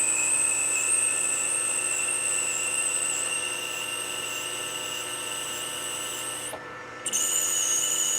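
A power tool runs steadily while cutting slots into a metal part for a needle welding project, a high whine holding throughout and briefly dropping out near the end before resuming.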